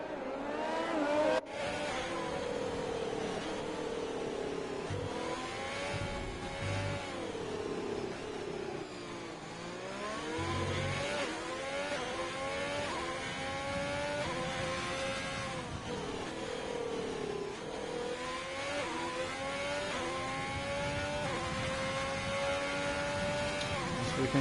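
Formula 1 cars from F1 2020 rolling around the Singapore street circuit on the formation lap, a continuous layered engine drone with shifting pitches from several cars, steady and fairly loud with no talk.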